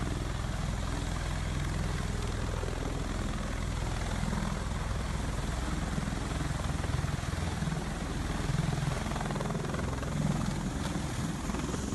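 A V-22 Osprey tiltrotor aircraft drones steadily with a low, rumbling thrum and rushing wind noise, sustained and fairly distant throughout, as it approaches a ship's deck.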